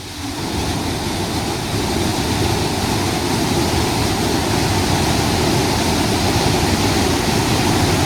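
Steady, broadband rushing of a waterfall fills the whole stretch, a constant roar without pauses or voices, at Devil's Hopyard, Connecticut.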